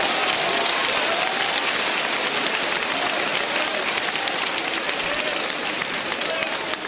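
A large church congregation applauds continuously, dense clapping filling the space at a steady, loud level.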